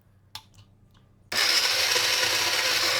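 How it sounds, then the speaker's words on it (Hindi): A kitchen blender whirring through small orange pieces for juice, kicking in abruptly after a couple of faint clicks and then running loud and steady to the end. "अब हम इसका जूस निकाल लेते हैं ब्लेंडर में डाल के।"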